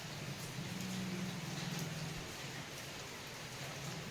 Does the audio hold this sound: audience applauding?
no